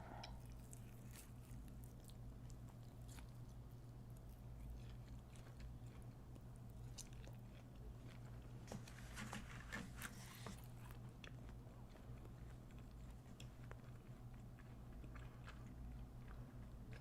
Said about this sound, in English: Feel free to turn me down if you don't like the sound of chewing.